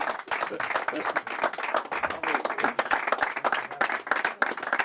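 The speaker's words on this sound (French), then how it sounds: "On peut l'applaudir très très fort." Audience applause at a live magic show, a loud, fairly close, continuous burst of many hands clapping with sharp irregular claps and faint voices mixed in.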